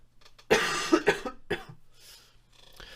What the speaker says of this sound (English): Sorry for the coughing as well.